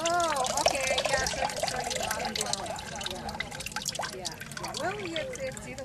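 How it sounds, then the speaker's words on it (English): Water drains and drips off a papermaking screen after pulp is scooped up at a papermaking demonstration during a Celtic celebration in Reno; a steady trickle sits under continuous nearby talking. "So this, we drain the water off."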